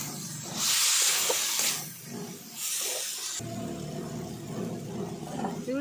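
Water poured into a hot pan of okra being cooked with shrimp bursts into a loud hissing sizzle, which fades and then settles into a steadier, quieter bubbling fry up close, with no one speaking.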